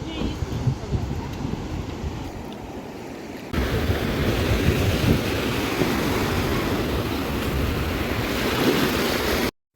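Sea waves wash against the shore in a constant rushing roar, with wind buffeting the microphone; the surf grows louder after a few seconds and then cuts off abruptly.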